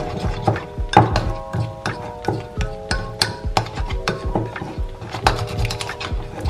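A spoon stirs a starch and milk face mask mixture in a bowl, making close, repeated clinks, knocks and scrapes in an uneven rhythm.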